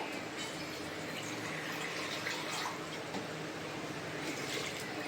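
Water poured into a pan of cooked chana dal curry on the stove, making a steady, close rushing splash that lasts the whole stretch without a break.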